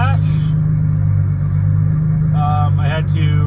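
A Nissan G35/350Z runs at a steady idle with a low, constant engine hum throughout, while a person talks over it in short bursts.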